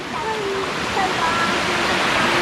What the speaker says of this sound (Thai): โอ้แรงอยู่เหมือนกันนะเนี่ยน้ำตกอะไรเนี่ย